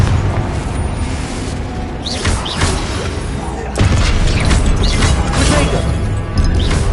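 A Confringo fire spell explodes in Hogwarts Legacy during a troll titan boss fight, with loud, dense booming blasts and crashing debris that surge again midway and keep rumbling to the end.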